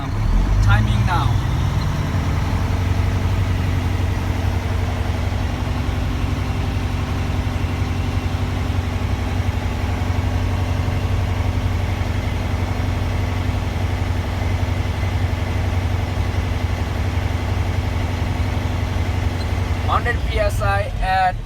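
Truck engine held at a steady 1500 RPM during an air brake test, a continuous low, close drone that stays even throughout, with someone talking over it and short clicks at the start and end.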